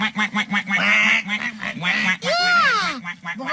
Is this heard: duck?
yes